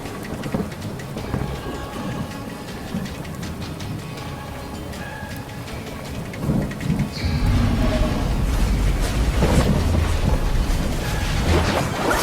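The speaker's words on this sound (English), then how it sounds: "She smiles, and the rain begins to fall." Steady rain pours in a dense hiss with rumbles like thunder, growing heavier and louder partway through, heard alone without voices in an animated horror story.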